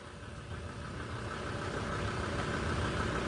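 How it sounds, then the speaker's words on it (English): A low, steady engine-like rumble resembling an idling diesel truck in a FNAF V/H/S found-footage scene, faint and continuous with a slight rise in loudness. "Why does it sound like a diesel truck?"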